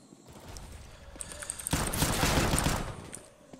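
Gunfire in a Counter-Strike match on the Inferno map, a dense burst of rapid shots swelling to a loud peak and fading over a few seconds.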